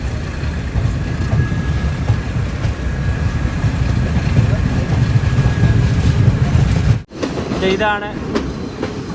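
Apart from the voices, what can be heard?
train departing Galle on Sri Lanka's coastal line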